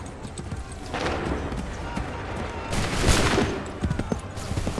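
Soldiers' musket volleys in Assassin's Creed III crack and rumble in dense bursts, swelling around the middle of the stretch amid battlefield noise, while shouted commands carry over the firing.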